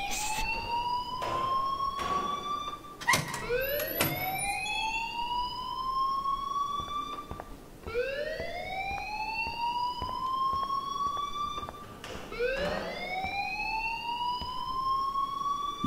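A rising and falling electronic alarm rings in the video game Life is Strange, sweeping upward in repeated wails about every four seconds, loud and steady with no talking over it.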